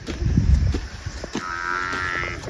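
A buffalo lets out a single drawn-out moo at a Nepali village farm, close and clear, following a brief low rustle and thump.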